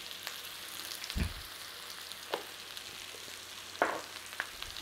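Leek and garlic frying in butter with thyme, a faint, steady sizzle with a few soft clatters of stirring in the pan and no talk.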